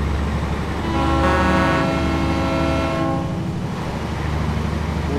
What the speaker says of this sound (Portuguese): Buzina de trem. Muito louca essa buzina.